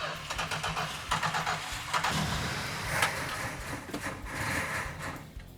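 Richard Petty Superbird Mopar engine, fuel line rotted and bottle-fed by hand, cranking and sputtering as it tries to restart, a steady rough mechanical churn close by with brief surges.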